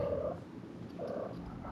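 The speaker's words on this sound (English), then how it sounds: "Hush, little kitty cat." A cat purrs softly in two low rumbling bursts during an Elden Ring boss fight, quiet and steady against game background noise.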